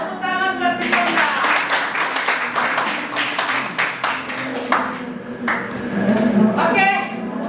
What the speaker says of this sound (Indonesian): tepuk tangan buat si Sondang.